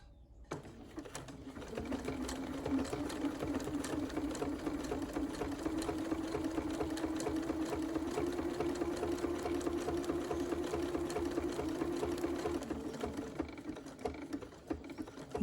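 A sewing machine with a manual buttonhole foot stitches a buttonhole in one steady, close whirring run of rapid needle strokes lasting about eleven seconds, then stops.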